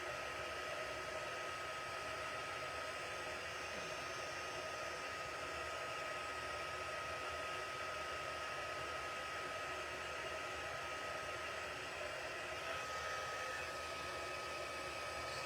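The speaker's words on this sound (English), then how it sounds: "I'm just heat embossing my sentiment." Heat gun blowing steadily while heat embossing a sentiment on a card, a constant even hiss-like whoosh of hot air running unbroken at moderate loudness with no talking.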